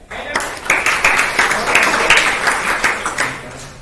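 A school class claps together for itself after singing a Hindi poem, a burst of irregular hand claps for several seconds, with a teacher's voice talking over it.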